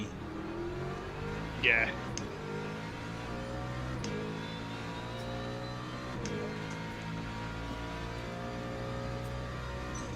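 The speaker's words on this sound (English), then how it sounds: "I like the sound of the Lexus though. Sounds very much like the AMG." A Lexus race car engine in Le Mans Ultimate drones and revs steadily throughout, with a brief louder burst early on and a short spoken word over the engine.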